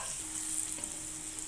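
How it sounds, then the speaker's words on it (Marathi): Green chilli and garlic paste sizzling in oil with onion and tomato for a spicy dry bombil chutney, a steady, close hiss of frying with faint stirring, no talk. "आता यामध्ये हिरवी मिरची आणि लसणाचा ठेचा टाकून परतून घेऊया।"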